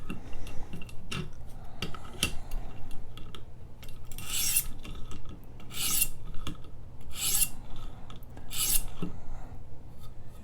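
Rhythmic rasping strokes of a ZT Hinderer Slicer 0562 folding knife sharpened on a whetstone, several bright gritty passes in steady succession, close and fairly loud, with softer higher-pitched passes once the burr is removed.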